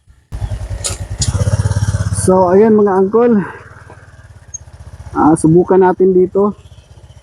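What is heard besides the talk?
motorcycle engine while riding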